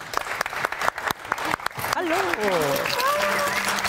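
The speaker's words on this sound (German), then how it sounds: "Herzlich Applaus." A studio audience applauds as the first guest of a German film talk show is welcomed, the clapping swelling into a steady wash while a presenter's voice rises over it and continues speaking near the end.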